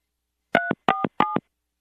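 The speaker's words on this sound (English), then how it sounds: "for his phone number, you just have to dial 3 numbers" Three short two-tone telephone keypad beeps, clear and evenly spaced about a third of a second apart, heard alone against silence.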